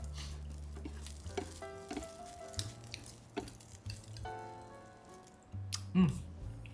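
Rice stir-fried with seasonings in a pan, a faint, soft sizzle with scraping and stirring, under steady background music and a hum.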